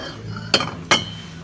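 Two sharp porcelain clinks about a third of a second apart, close by in a second-hand shop, with a faint low hum underneath and no talking.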